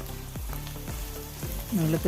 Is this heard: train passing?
no